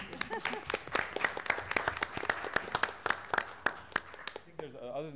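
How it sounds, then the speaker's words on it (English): A small group at a board meeting gives a brief round of applause, a sparse scatter of distinct, close hand claps in an uneven rhythm. Talk follows right after the clapping stops. "I want to give you a little applause"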